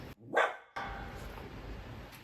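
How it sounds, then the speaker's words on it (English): A single sharp dog bark sounds nearby, followed by quiet room tone. "I have my dog Linus here"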